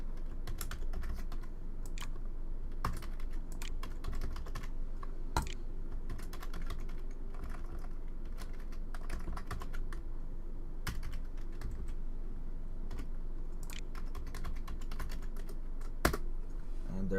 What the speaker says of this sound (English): I need to open up the on-screen keyboard here so that I can actually type.